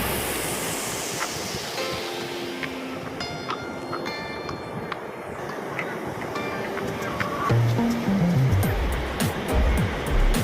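Waves washing onto the shore at Jahania Pir beach at sunset, a steady broad surf rumble throughout with a faint engine-like tone rising and falling near the end.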